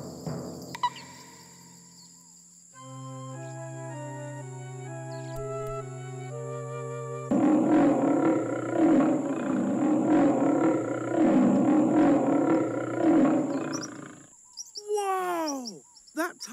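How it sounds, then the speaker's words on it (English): A tiger roars in the animated children's series Little Charley Bear. A long, loud, rough roar follows a short stretch of tonal music, then fades into brief chirpy bird-like calls. "Tiger has got a really loud roar."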